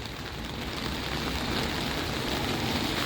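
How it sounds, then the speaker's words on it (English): Rain falls steadily during a morning walk outdoors, a continuous broadband hiss of drops at even loudness with no voices. "I would much rather prefer that we don't have a rain, especially, when we have to walk, because this one is clearly demonstrating right now"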